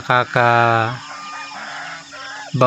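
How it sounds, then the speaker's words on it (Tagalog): Close, loud chicken squawks and clucking as chickens and geese are fed, with a rooster-like call and softer poultry chatter in between; no speech. "Nagpapakain ako ng manok at ng mga gansa."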